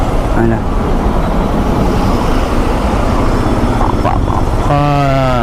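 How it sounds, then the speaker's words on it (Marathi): Jammed highway traffic with trucks and cars, a dense steady rumble of idling and creeping engines, with a loud horn blast near the end. "तुम्ही बघू शकता किती लांबपर्यंत ट्राफिक आहे"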